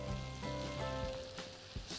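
Zucchini added to a pan of softened cherry tomatoes, frying with a close, steady sizzle and a brief clatter of pieces landing.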